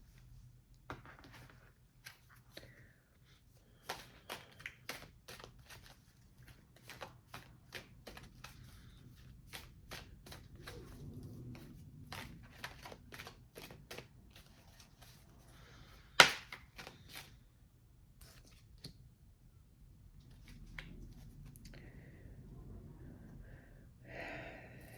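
A deck of cards being shuffled in short crisp riffles and taps, quiet and close, with one sharp louder snap midway and soft pauses between bursts.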